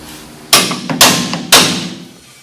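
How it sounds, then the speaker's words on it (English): Three sharp, loud hammer blows at an even one-per-half-second rhythm knock a pry bar loose while working on the bell crank steering of a 1938 Packard Super 8. "Here, we'll pop it out with our hammer."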